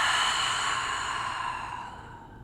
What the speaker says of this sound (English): take a cleansing breath whenever you need it, letting the breath come out of the mouth